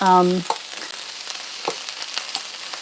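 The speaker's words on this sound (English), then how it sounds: "I'm going to put these onions in with the cabbage. Let them saute up as well." Onions and cabbage sizzle in a hot pan, giving a steady close crackle of frying with scattered sharp pops after a short tonal sound at the start.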